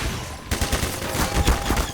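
Rapid enemy gunfire in Half-Life 2, Water Hazard chapter, a dense burst of overlapping shots hammering close by for about a second and a half, with no voices.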